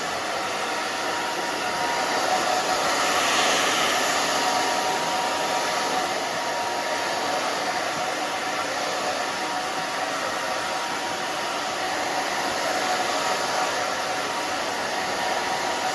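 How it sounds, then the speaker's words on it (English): A hair dryer drying a short pixie haircut roars steadily and close, a constant broadband whoosh with slight swells in intensity throughout, no voices. "and you can move the blow dryer"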